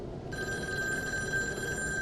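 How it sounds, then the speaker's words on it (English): An old telephone bell rings in the Taiwanese horror game Devotion, a steady metallic trill that starts abruptly and holds at close range, alone without speech. "That's the phone, but we're going to check this out first."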